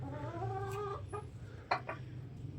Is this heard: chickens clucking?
yes